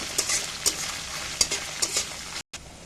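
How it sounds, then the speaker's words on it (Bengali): Eggs and onions fry in a pan with a steady sizzle, punctuated by regular spatula scrapes and stirring, close by, with a brief silent gap near the end, no talking. "এখন এটা ভালো করে একটু একসাথে ভেজে নেব পেঁয়াজের সাথে।"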